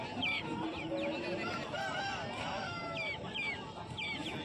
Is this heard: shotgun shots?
no